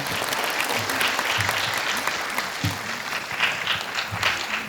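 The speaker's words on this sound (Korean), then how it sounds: "다시 한번 박수 부탁드리겠습니다." An audience at an academic Buddhist studies conference claps in sustained, even applause for several seconds after a professor's lecture, with a few people murmuring faintly beneath it.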